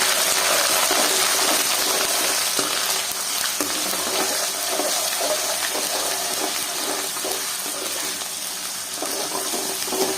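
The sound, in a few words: ginger garlic paste frying in a pan for chicken curry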